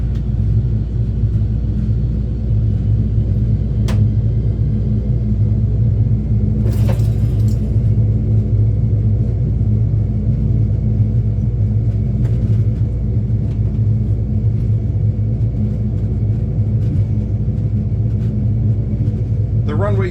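T-2C Buckeye twin jet engines spool up for takeoff in a flight simulator game, a loud, steady, dense roar that holds throughout with a few faint clicks on top.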